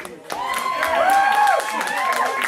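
Club audience at a small rock show applauding a band, a dense burst of clapping and whoops mixed with a sustained tonal ring from the stage, loud and close throughout.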